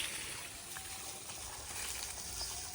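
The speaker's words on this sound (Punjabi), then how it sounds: "ਹੁਣ ਮੋਟਰ ਦਾ ਪਾਣੀ ਜਾ ਰਿਹਾਗਾ" Irrigation water pumped by a motor gushes steadily into a field channel on a Punjab village farm, a continuous broadband rush that stays even throughout with no talk.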